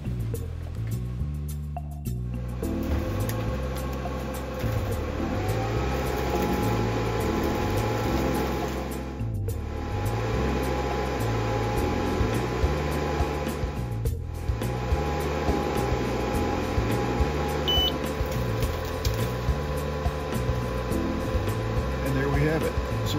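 An xTool F1 Ultra dual laser engraving titanium earrings gives a steady mechanical whir with a faint pulsing hum, running continuously at moderate level, with a couple of brief dips.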